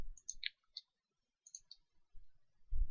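A computer mouse button clicks sharply several times, close and isolated in a quiet room, with a faint low thump near the end.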